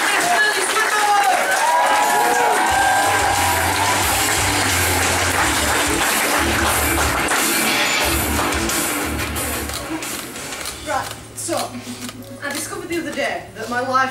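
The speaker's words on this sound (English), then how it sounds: "Ladies and gentlemen, can you keep that applause going?" A comedy club audience claps and cheers loudly and densely for several seconds. The applause fades out and a comedian's voice takes over.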